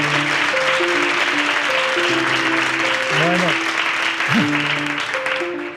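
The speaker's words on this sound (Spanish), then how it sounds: "muchas gracias por el aplauso" An audience applauds steadily, a loud dense wash of clapping throughout, with a voice briefly heard over it.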